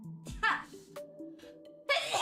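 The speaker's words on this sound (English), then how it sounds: "I gotta sneeze." A person's sneeze, sharp and close, following a brief vocal build-up, with a second explosive burst near the end.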